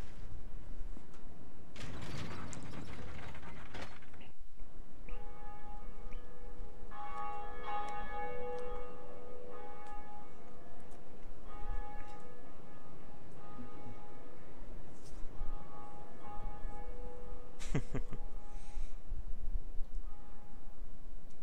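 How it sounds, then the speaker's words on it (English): A heavy bell in the video game Dark Souls rings out with long, shimmering tones that sustain and layer over several seconds, clear and fairly loud against a low rumbling background. "Ring this damn bell."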